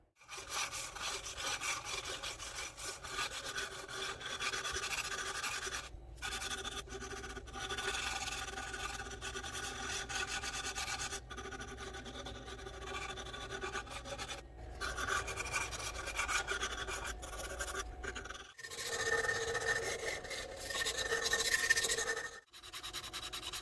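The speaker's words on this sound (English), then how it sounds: "we're going to hit the sandpaper" Steady rhythmic rasping of sandpaper rubbing on a wooden fishing lure, continuing in long strokes with brief pauses between bursts.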